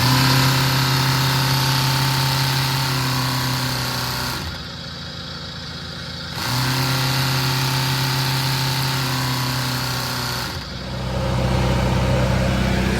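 The engine of an X6 pressure-washing pump runs loudly and steadily at a close distance. It drops twice to a quieter, lower drone for a couple of seconds each time, then returns to full running, with no speech.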